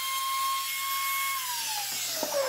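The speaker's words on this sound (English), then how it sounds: "so I routered it" A router working on a wooden welcome sign gives a high, steady whine that drops in pitch as it winds down, with a few small knocks near the end.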